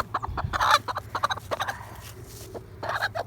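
Brahma chickens clucking close by, a run of short throaty clucks and soft squawks in uneven bursts, with a brief louder cackle near the start and a quieter stretch before more clucking.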